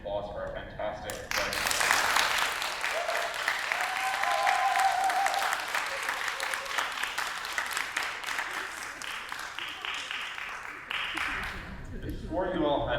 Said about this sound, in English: can I just get a hand of applause for our fantastic